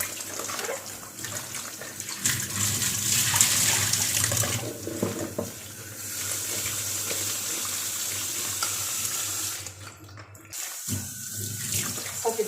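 Molokhia leaves rinsed under a running tap, water splashing and gurgling steadily with brief pauses and a short break near the end.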